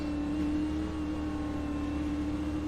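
Race car engines from K&N cars in an eSports auto racing league video game, a steady droning engine hum with a constant pitch, continuous and moderately loud with no talking.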